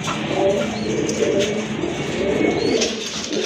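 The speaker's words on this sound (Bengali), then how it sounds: "আরেক জোড়া রেসার কবুতর" Racer pigeons, a pair with anar-coloured eyes and light plumage, coo in low, repeated throaty phrases close by over a steady background hum.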